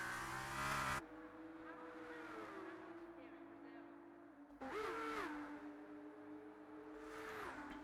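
An F2 race car in F1 23 at the São Paulo Grand Prix holds a high engine whine that rises and falls through gear changes, with a second car surging past midway and a voice heard faintly underneath.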